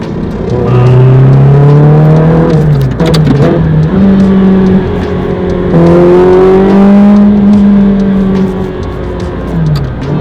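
A manual Ferrari Challenge Stradale engine drones and revs loudly and steadily on a twisty road, pitch rising and falling as it accelerates and shifts through turns, close up, with no talking.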